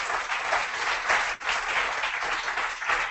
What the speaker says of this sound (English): also an applause to all the organizers